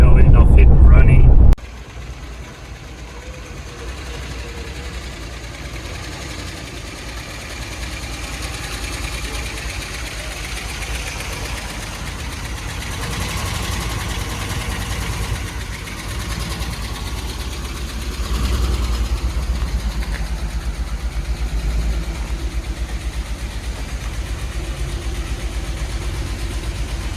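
A 1958 Edsel Ranger with a swapped carburetor runs at idle: a sharp loud burst at the start, then a steady, rumbling engine drone that carries on evenly throughout.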